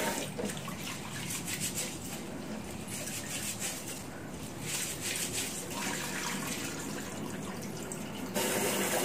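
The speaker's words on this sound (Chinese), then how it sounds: "糯米一定要多清洗几遍" Glutinous rice is washed in water for making zongzi, giving continuous splashing and running-water sounds with soft rhythmic swishes throughout and no speech.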